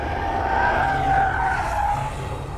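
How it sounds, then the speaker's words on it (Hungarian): Renault Zoe R90 electric car cornering on a track, its tires squealing in a sustained, wavering high whine over low rumble, with no engine noise, loud and close throughout. "És hogy tényleg csak a gumisírást hallani."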